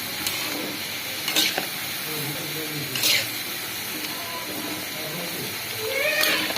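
Potatoes frying in a pan while breakfast is made at home, a steady sizzle with brief stirring scrapes, heard under faint background voices.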